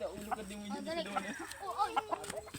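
A gamecock held before a cockfight clucks and crows close by in short, uneven bursts, mixed with nearby voices talking.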